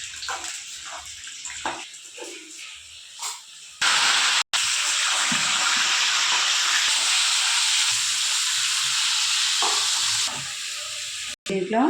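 Mustard seeds hit hot oil with a sudden loud, steady hiss and sizzle that holds close and dense for several seconds, preceded by quieter kitchen sounds and brief soft speech.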